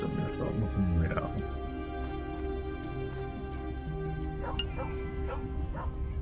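Dog barking, yipping and whimpering in the video game Tales of the Neon Sea, short yelps and whines over steady game music with voices talking throughout.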